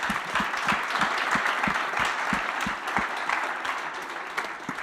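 Audience at a European Big Data Value Forum conference giving a round of applause, dense continuous clapping with a few sharp individual claps standing out, fairly close and sustained for several seconds.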